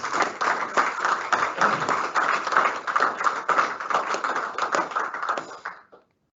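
A round of applause at a school junior prizegiving, steady dense hand clapping from a hall audience lasting several seconds before stopping abruptly.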